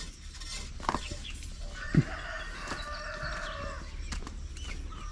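Chickens in a farm pen give a few scattered clucks and short calls amid quiet background noise, with one louder squawk standing out near the middle.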